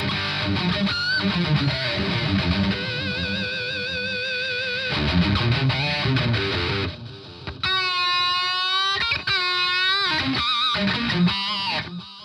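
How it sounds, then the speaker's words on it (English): Electric guitar run through an analog delay on an Aurora DSP Laney Ironheart amp plugin, playing sustained distorted chords and melodic lines with repeating echo tails, loud and steady throughout with no talking. "You've got an analog delay as well."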